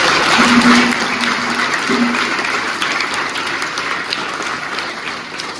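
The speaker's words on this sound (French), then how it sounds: "On applaudit pour les tontons." A church congregation at a children's Mass at the Sainte Agnès parish claps loudly together in a sustained, even round of applause that fades slightly toward the end.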